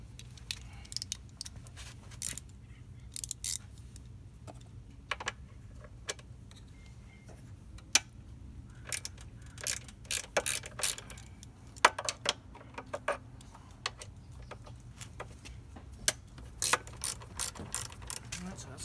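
Ratchet with a 6 mm socket loosening motorcycle exhaust hanger bolts: faint, sharp clicking pawl bursts in irregular short runs over a quiet low hum, close by.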